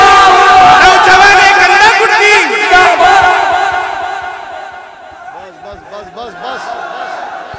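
A large crowd at an Islamic naat poetry gathering roars a takbir chant in unison, loud and booming at first, then fading as a single voice carries on over the hall.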